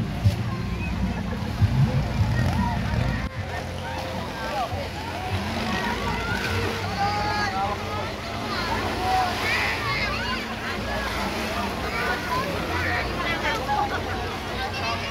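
Water sloshing and splashing against a moving boat with a low engine rumble, voices chattering in the background throughout, on the way to Anawangin near Pundaquit, Zambales.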